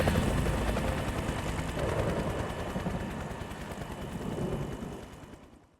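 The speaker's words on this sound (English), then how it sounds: "Fuck, it's loud. I mean, to be fair, there's fucking helicopters." Helicopters in Metal Gear Solid 2 produce a loud, steady rotor chop with dense mechanical rumble that holds for several seconds before fading out, with no voices over it.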